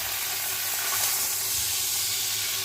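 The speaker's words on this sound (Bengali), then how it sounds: "আলু আর সজনে ডাঁটা সেদ্ধ করার জন্য বেশ কিছুটা পরিমাণে জল দিয়ে দিলাম" Water is poured into a pan of frying potatoes and drumsticks for a poppy-seed curry, setting off a loud, steady, close-up sizzle and steamy hiss that continues unbroken throughout.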